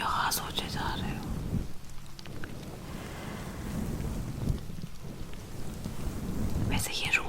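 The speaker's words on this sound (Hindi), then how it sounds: "इतनी अच्छी बारिश हो रही है" Steady rain falls in a continuous soft hiss with low rumbling, heard close and even, while a woman whispers over it in Hindi.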